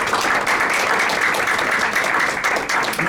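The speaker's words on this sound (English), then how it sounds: "Please give her a round of applause as she comes." An audience at a United Nations side event applauds an arriving guest, producing a steady, full wash of clapping that carries evenly from start to finish with no speech over it.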